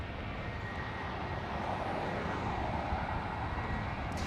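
A Sun Country airliner departing Los Angeles International Airport, its steady broadband jet engine roar sustained and fairly loud throughout.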